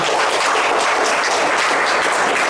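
A seated audience gives a dense, unbroken round of clapping for the first-prize winner at a prize ceremony for a free G2 and G2A full model exam. The applause holds loud and even throughout.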